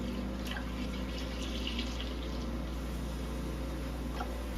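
Whole milk pours steadily into a container for a homemade ice cream base, a soft continuous liquid stream with a few faint drips, close by and without any talking.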